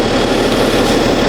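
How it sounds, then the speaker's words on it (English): A BMW X5 30d's engine idles at 850 RPM with a steady, loud drone, even and continuous with no variation in pitch, running alone for a brief moment. "Car's sitting idling as it should, 850 RPM"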